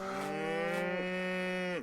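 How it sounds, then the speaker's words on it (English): A cow in the video game Rising World lets out one long, loud, steady moo that holds close and clear for almost two seconds before dropping off, with nothing else heard. "We've got 2 cows now."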